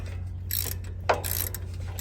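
A ratchet wrench tightens a bolt on the front brake of a Toyota 4Runner, making quick metallic clicking bursts over a low steady hum, with one sharper clack near the middle.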